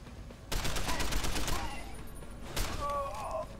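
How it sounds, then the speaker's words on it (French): Gunfire in the video game Deus Ex: Human Revolution, a dense burst of rapid shots that comes in two rounds, with a brief lull between them, over a steady game backdrop. "Oula, c'est qui me tire dessus?"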